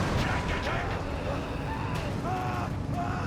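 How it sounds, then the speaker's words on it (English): Artillery fire and explosions in the strategy game Company of Heroes 3, a dense, steady wash of booms and blasts under a voice talking. "More artillery fire all over the place, more explosions, more carnage."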